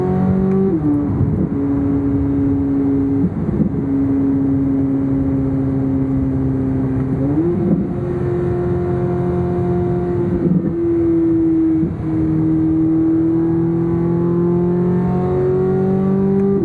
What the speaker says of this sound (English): you basically can just stay in third gear the entire time and let the engine do the talking